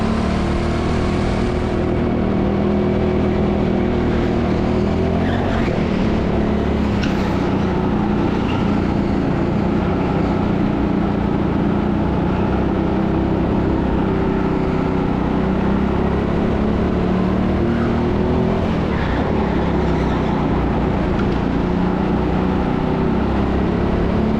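Go-karts racing around the TeamSport Sheffield indoor track, a steady engine drone throughout with rising and falling pitch as karts accelerate and brake, continuous and moderately loud with no talking.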